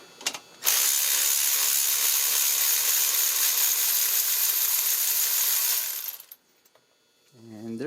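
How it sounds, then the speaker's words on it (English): A cordless ratchet spins steadily for about five and a half seconds while removing spark plugs on a 2010 Kia Soul, loud and close, starting after a couple of quick clicks and stopping abruptly. "I'm gonna use my cordless ratchet."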